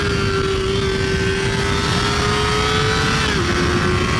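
A 2023 Kawasaki ZX-4RR four-cylinder sport bike screams in third gear toward redline on a street, a loud, sustained high-pitched wail with steady tone and heavy wind rush, ending with a slight pitch drop.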